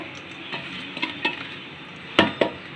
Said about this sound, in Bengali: ডালটাও দিয়ে দিলাম সুন্দর করে কষান দিয়ে